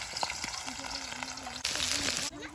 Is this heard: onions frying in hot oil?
yes